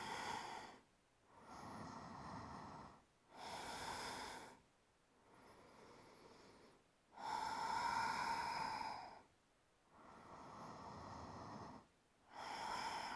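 Slow, deep breaths are held through a yoga posture during a vinyasa session, a series of distinct inhales and exhales, each lasting one to two seconds with short silent gaps between them, close and quiet.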